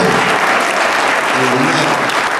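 Audience applause at the Pan-African Movement Summit in Atlanta, a dense, steady wash of clapping from a large crowd that runs loud and unbroken throughout, with a faint voice briefly audible beneath it.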